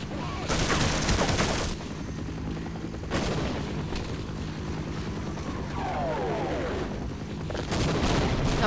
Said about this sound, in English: Oh yeah, they're bombing us.